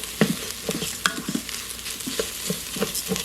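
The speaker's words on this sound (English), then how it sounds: "Now that the onions are done, you want to add in 1 cup of rice." A cup of rice toasting in hot oil with softened onions in a pan, with a close, steady sizzle and crackle and irregular scraping and stirring clatter throughout.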